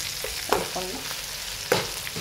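Onions fry in a pan while being stirred, with a few sharp scraping strokes of the spoon over a continuous close sizzle.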